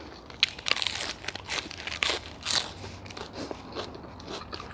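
Close, crisp crunching bites of fresh lettuce eaten with Thai pork noodle soup, several sharp crackly bites and chewing sounds in quick succession, with no talk.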